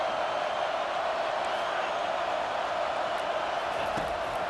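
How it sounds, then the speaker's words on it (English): Steady stadium crowd roar from a college football video game, a dense continuous wash of many voices holding at an even level throughout with no distinct cheers breaking out. "this crowd trying to help keep them there"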